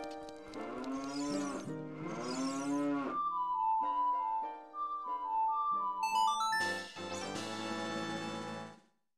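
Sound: cows mooing in the video game Ocarina of Time

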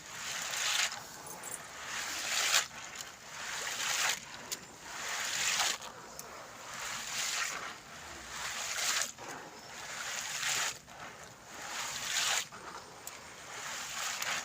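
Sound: washing soaked pigeon peas in water

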